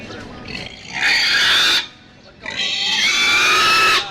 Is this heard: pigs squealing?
yes